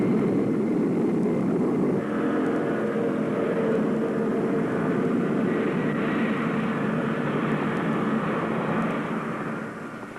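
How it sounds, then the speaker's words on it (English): Loud, steady roar of an international airliner's engines with a rising whine as it lands at a military airfield near Saigon, swelling slightly and then fading near the end, with no voices. "the military traffic pauses to allow the landing of sleek international airliners"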